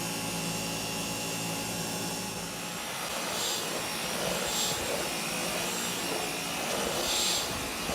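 A Dyson V12 Detect Slim cordless stick vacuum runs steadily in a quieter power mode, giving a constant whirring motor hum with a high whine, and no one speaks.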